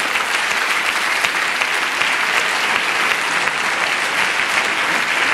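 Audience applause at a HeForShe panel event hosted by Vodafone, dense steady clapping from a seated crowd lasting throughout at an even level, without speech over it.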